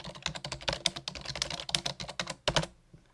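Rapid keystrokes on a computer keyboard as text is typed in a word processor, a close, steady patter of clicks ending in a final pair of taps.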